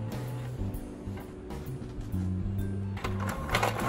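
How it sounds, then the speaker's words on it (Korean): A Canon Maxify multifunction printer runs a deep head-cleaning cycle, giving a low mechanical hum with stepped motor tones, plus a few clicks and clunks partway through, at moderate level. "정밀 청소로 뚫는 방법도 있는데 한번 먼저 해보겠습니다."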